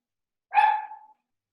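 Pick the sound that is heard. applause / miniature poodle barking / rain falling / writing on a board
miniature poodle barking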